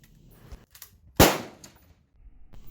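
A single sharp, loud rifle shot from a 1942 Soviet Mosin 91/30 chambered in 7.62x54R, with a quick decaying tail and quiet surroundings.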